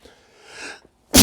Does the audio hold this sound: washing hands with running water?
no